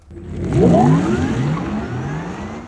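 The optional synthetic drive sound of a Porsche Taycan electric car in sport mode, a deep rising whir swelling quickly as it accelerates, loud and close, then easing off.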